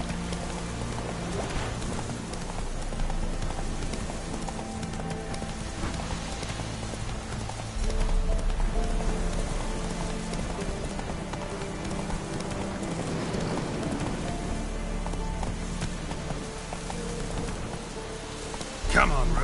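Roach the horse gallops through rain in The Witcher 3, steady hoofbeats pounding close over a constant hiss of rainfall, with game music and a rider's voice calling out now and then.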